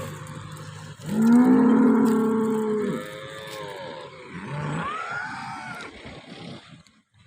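Cows moo nearby, one long deep low followed by a second shorter call, with quiet farm ambience around them.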